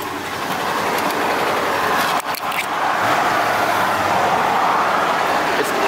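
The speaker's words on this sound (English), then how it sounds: "It's idling just a bit higher than it should possibly." A 1978 Mercury Marquis Colony Park station wagon sits idling a little high, its engine giving a steady, continuous rumble with broad road-like noise and a brief dip partway through.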